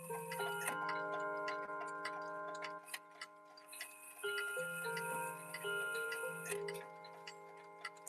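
A freshly wound Seth Thomas mechanical clock ticks steadily and evenly, with a ringing, bell-like resonance lingering underneath the beats and no talking.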